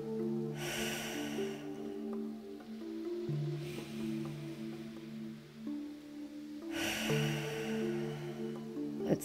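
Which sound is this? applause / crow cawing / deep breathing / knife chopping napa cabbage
deep breathing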